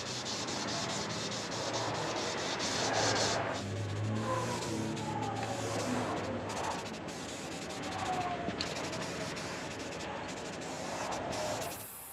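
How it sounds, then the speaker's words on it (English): Scuff-sanding the old red paint off a metal table frame outdoors in wind, a steady broadband rubbing hiss running throughout at close range with slight shifts in pressure and no talk over it. "spend a few minutes sanding just to make sure everything comes out nice and smooth"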